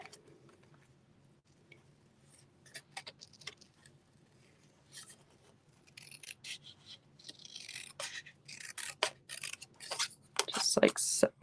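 Scissors fussy cutting paper for a craft project, at first a faint scattered snipping that grows into rapid, louder rustling snips near the end.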